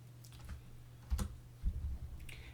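Close, quiet keystrokes on a computer keyboard entering a Python install command, a few soft clicks followed by two brief bursts of faster taps.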